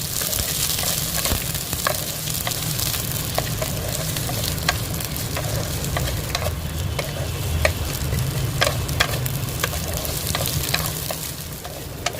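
Sliced onions with garlic fry in a pan until browned, a loud, constant crackling sizzle punctuated by regular sharp spatula clicks against the metal as they are stirred, with no speech.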